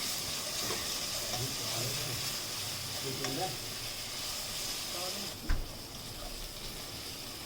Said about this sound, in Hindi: 1 मिनट के लिए और फ्राई करेंगे।